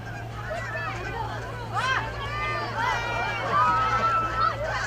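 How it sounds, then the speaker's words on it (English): Geese honk repeatedly overhead at a girls' high school soccer game, a scattered chorus of calls over a steady hum and background chatter, growing a bit louder toward the end. "And we have a geese fly over here."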